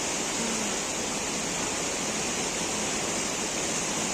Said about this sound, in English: just hearing the sound of the river